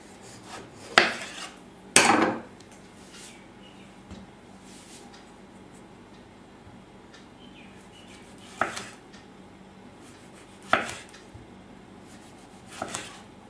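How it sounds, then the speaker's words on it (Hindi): A knife cuts a melon lengthwise on a board, with several sharp scraping chops and knocks at irregular intervals and quiet handling noise between them. "और अब हम मेलन काटेंगे। Friends, it is very important that you notice it, length wise काटना है"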